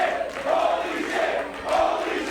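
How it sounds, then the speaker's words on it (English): Wrestling crowd at a multi-man match roars in disbelief, swelling chants and shouts rising and falling in waves, loud and distant-sounding in a large venue. "And you can hear the crowd saying exactly what they think of what they just saw."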